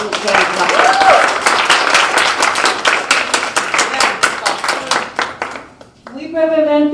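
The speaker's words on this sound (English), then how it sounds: "Can we give a round of applause to Sharon Caulfield?" An audience at a Black History Month event at Bunker Hill Community College's Chelsea campus claps steadily for about six seconds, a loud dense patter that stops abruptly before a voice begins speaking.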